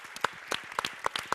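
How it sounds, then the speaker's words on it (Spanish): Scattered, light applause with individual claps standing out, quiet and somewhat distant, like a small audience clapping briefly. "Victoria, Guillermo, Maribel, Arsenio, también muchas gracias, un aplauso."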